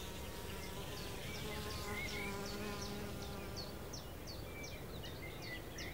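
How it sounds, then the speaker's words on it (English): A hummingbird hawk moth hovers at meadow flowers in the Jura Mountains, its steady buzzing wing hum continuous and fairly faint over an outdoor background, with a bird calling in short repeated chirps. "wide awake, though, the hummingbird hawk moth"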